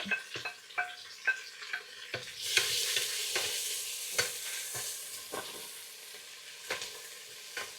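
Whole spices such as cinnamon, cloves, cardamom, bay leaf and cumin, with onion, sizzle in hot oil in a home kitchen, a steady frying hiss broken by frequent light scrapes and taps of stirring, with a louder burst of sizzle as the onion goes in.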